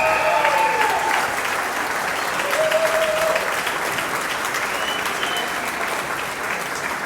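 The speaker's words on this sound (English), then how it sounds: "How about a nice round of applause for Mr. Stenger?" Steady applause from a wedding crowd fills the whole stretch, dense and continuous without pause, with faint voices and whistles poking through.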